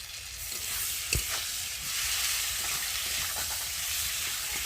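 Turmeric, chilli powder, ginger, cumin and garlic pastes with tomato fry in hot oil, giving a continuous close crackling sizzle with a short sharp clatter early on and no voices.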